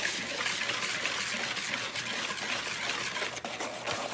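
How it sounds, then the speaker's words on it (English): Dry ingredients for a rustic no-knead, no-yeast vegan bread being whisked together in a bowl, a continuous fast rustling, scraping rhythm heard up close. "I'm just going to whisk all of this together so it's all evenly incorporated"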